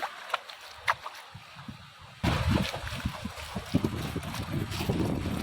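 Waves lap against a boat in a tidal creek of a tiger forest, broad washing water noise stepping up sharply partway through and continuing steadily with wind rumble, after a quieter stretch of scattered knocks.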